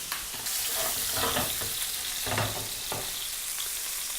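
Mustard seeds fry and pop in a hot pan of oil at the start of a duck curry, a steady sizzle broken by sharp crackling bursts, close and loud, with no voices.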